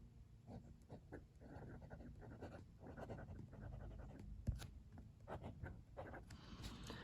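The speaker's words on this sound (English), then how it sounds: "Time for a writing sample now with the Hongdian" Soft, close scratching of a Hongdian A6 fountain pen with a number 6 steel fine nib moving across paper, short strokes in an irregular rhythm, faint and quiet.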